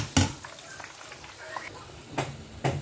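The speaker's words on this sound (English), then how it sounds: "I have to stir fry the green peas." Green peas being stir-fried for fried rice, a soft steady sizzle in the pan broken by a few sharp scraping or clanking hits of the stirring utensil, fairly quiet and close.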